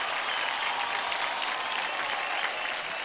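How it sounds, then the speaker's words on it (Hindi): Steady, dense applause from a studio audience after a child's dance performance on a televised kids' dance competition, loud and sustained throughout with no talk over it. "जोरदार तालियां हो जाए अनुष्का के लिए"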